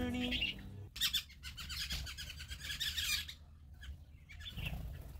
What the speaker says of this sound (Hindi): ये आ चुकी है हमारी दबंग चिड़िया की एंट्री हो गई है और इसके आते ही सब चिड़िया यहाँ से उड़ चुकी हैं